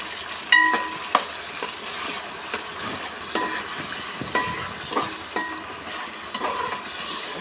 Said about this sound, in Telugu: ఇది బాగా ఆయిల్ ఇంకా సపరేట్ అయ్యేంత వరకు వేపుకోవాలి.